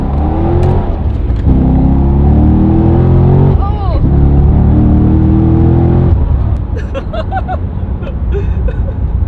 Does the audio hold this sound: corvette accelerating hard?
yes